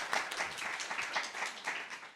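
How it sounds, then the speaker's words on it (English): Audience applause at an art forum talk, a steady wash of many hands clapping through the whole moment, moderately loud with no one speaking over it. "a round of applause"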